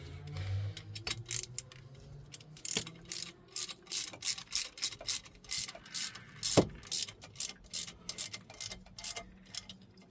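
A ratchet tightens a fitting during a fresh water cooling kit install on a 1968 Bertram Bahia Mar 20 boat, with rapid rhythmic clicking in close, repeated bursts.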